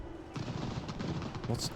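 Cannon and artillery fire in Ultimate General: Revolution's Battle of Burlington sounds as a quiet, steady patter of overlapping shots and booms, with someone talking over it.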